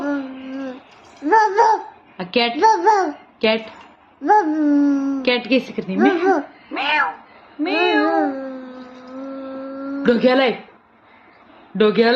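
A small child imitates a dog at home, making a string of short, wavering, animal-like vocal yelps and calls in quick bursts with brief gaps, loud and close to the microphone.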